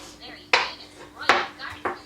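Garlic cloves crushed under the thick back of a large kitchen knife, three sharp close thuds spaced about half to three-quarters of a second apart, each with a quick crackling burst.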